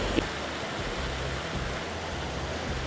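Steady, dense roar of a large waterfall dropping from high up in the mountains at Adelboden, Switzerland, continuous broadband rushing water heard from a distance.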